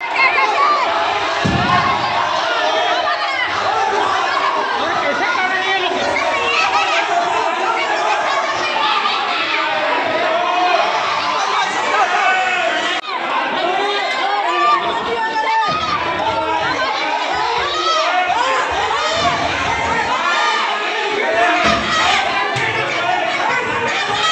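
A large, agitated crowd of relatives at the Durg mortuary fills the scene with continuous loud overlapping voices and shouting, steady throughout with no pauses.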